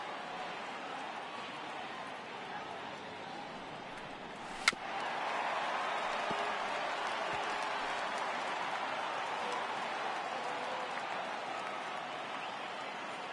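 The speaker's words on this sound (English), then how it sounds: "the home crowd seems a little restless" A home crowd at a baseball video game fills the scene with a steady, faint, restless murmur that holds evenly throughout, broken once by a single sharp click.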